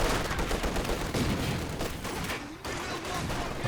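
Dense, steady machine gun fire from Company of Heroes 2, a battle in the Port of Hamburg with two MG teams, loud and overlapping with muffled booms and no voices.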